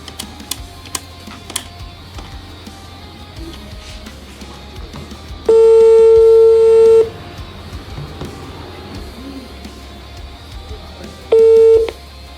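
An outgoing phone call placed as a prank, with a loud, steady electronic tone lasting over a second, then a second shorter tone some seconds later, over quiet room background.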